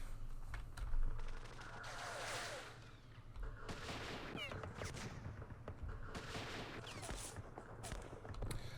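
Gunfire in the Vietnam War strategy game Campaign Series Vietnam, with bursts of crackling small-arms and heavier reports coming in waves at moderate volume over a steady background hum.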